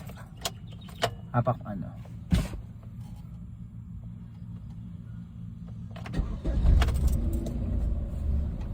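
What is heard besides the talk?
car engine starting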